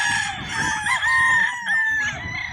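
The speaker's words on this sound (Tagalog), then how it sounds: "Napakagandang manok naman napili ni Boss Raymond" A rooster crows loudly and close by, one drawn-out call with a couple of wavering breaks, rising and falling.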